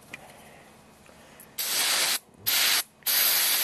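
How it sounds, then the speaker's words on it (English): Carb cleaner sprayed from an aerosol can onto a Lincoln 225 amp tombstone welder switch, three loud, close hissing bursts with short pauses between them following a quiet stretch of faint background. "let me see how this carb cleaner stuff does on it, if anything"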